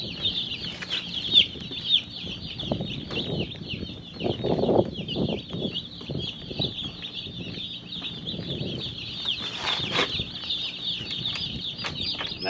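Cornish Cross chicks crowd a small brooder, keeping up a steady chorus of high, shrill peeping. Soft rustling and scratching sounds sit beneath the calls throughout.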